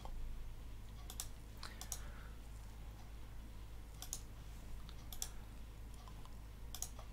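Keystrokes on a computer keyboard at a Linux Mint desktop, scattered bursts of typing and deleting heard faintly over a steady low electrical hum.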